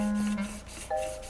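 Sandpaper rubs back and forth across a warped plastic intake manifold, quiet rhythmic rasping strokes heard up close.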